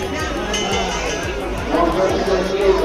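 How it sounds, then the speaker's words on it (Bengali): Dense crowd babble and chatter at a busy fair on its last day, many voices overlapping close by with occasional clinks, a steady hubbub throughout. "এখন পুরো কাতারে কাতারে লোক ঢুকছে পুরো মেলাতে"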